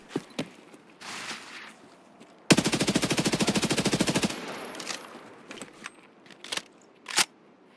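In Escape From Tarkov, a loud sustained burst of rapid automatic gunfire lasts nearly two seconds, framed by quieter scattered clicks, footsteps and movement noises before and after.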